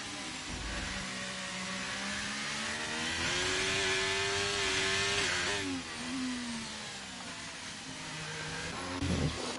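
Several Formula 1 cars in a racing video game at the United States Grand Prix run nose to tail, their engines droning and rising in pitch together, steady and loud with gear-shift dips, no voices over them.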